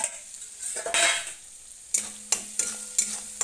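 Ground masala roasting in oil in a pan for a village-style chicken curry: a steady close sizzle broken by scraping stirs and several sharp clinks of a utensil against the pan, with no talking.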